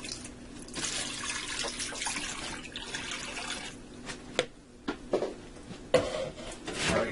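About four cups of water run and splash steadily into a pot, with a few sharp clinks and knocks near the end, no voices.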